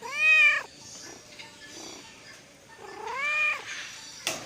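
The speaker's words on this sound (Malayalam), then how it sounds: "നമ്മുടെ സ്വന്തം പേർഷ്യൻ ക്യാറ്റ്" A Persian cat at a pet shop gives two clear, drawn-out meows about three seconds apart, close and fairly loud, with a quiet room between the calls and a short sharp knock at the end.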